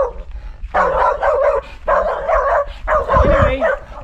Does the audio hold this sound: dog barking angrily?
yes